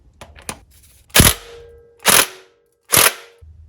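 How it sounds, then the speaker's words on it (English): Craftsman impact wrench with a 19mm socket hammering on a harmonic balancer bolt of a Toyota Camry 2.2L engine, three sharp, loud bursts spaced about a second apart with brief quieter taps before. "I've got a 19mm socket on my Craftsman impact"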